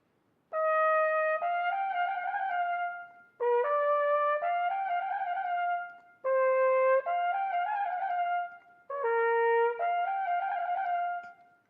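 Four separate trumpet phrases, each a bright trill on G from an opening cadenza, played alone and fairly close with short silences between them.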